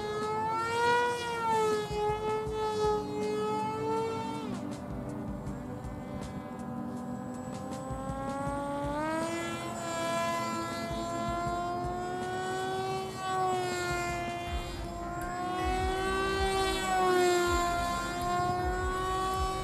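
A radio-controlled M2 airplane powered by a small 1534 electric motor flies continuously, its high whining drone rising and falling in pitch as the throttle changes, steady and fairly close throughout with no talking.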